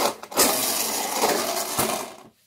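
Toy Alfa Romeo 25 car racing over a hard surface with a busy, close, continuous plastic rattle and clatter, a few sharper knocks, then a quick fade.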